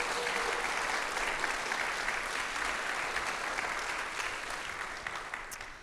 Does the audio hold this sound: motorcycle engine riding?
no